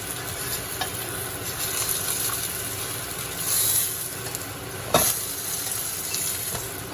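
Lamb shanks browning over medium heat in a pan give off a steady close sizzle and frying hiss, with a brief sharp clatter midway and no voices.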